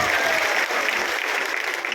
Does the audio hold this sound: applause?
yes